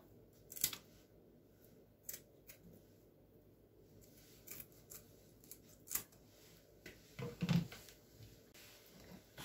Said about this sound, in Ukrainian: Ріжу, скільки ці ножнички вже риби перебачили, перерізали